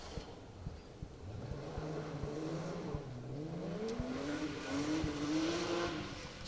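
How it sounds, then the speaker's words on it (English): A four-wheel-drive rally car engine revs and climbs in pitch as it powers by downhill at a distance on a forest rally stage, rising and falling through gear changes with faint crackles. "Such a smooth engine though, hasn't it? Let's watch it power its way down the hill here."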